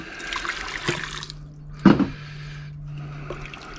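Water washing gold recovered from high-grade pins, with a brief louder splash and slosh in the middle over a steady low hum and quieter trickling before and after.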